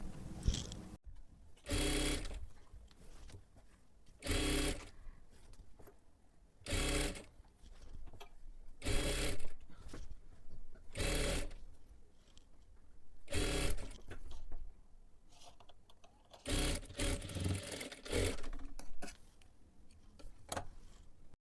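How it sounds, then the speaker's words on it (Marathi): A sewing machine stitches a piping strip onto a blouse neckline in repeated bursts of rapid clatter, broken by short pauses, close and clear with no talking. "पूर्ण गळ्याला आपल्याला अशाच पद्धतीने शिलाई करून घ्यायची आहे"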